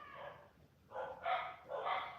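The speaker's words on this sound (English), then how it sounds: "The dogs are going crazy." Dogs barking in short bursts, three loud barks and yelps in quick succession, somewhat distant, with rain in the background and no talk.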